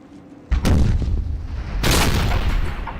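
Cannon fire from artillery in Empire: Total War, as gun batteries shell Naples during a siege: two heavy booming shots about a second apart, each with a rolling, sustained rumble, loud and close.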